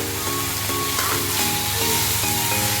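Rock salt and black salt are stirred into cooked amla paste with melted jaggery, giving a constant loud sizzle with rhythmic pulsing scrapes of a spoon in the pan.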